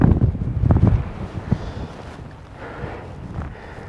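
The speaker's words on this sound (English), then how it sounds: "It is quite windy." Wind gusting across a misty, foggy fell in the Lake District, buffeting the microphone with heavy low rumbling bursts in the first second and a half, then easing to a steadier, softer rush.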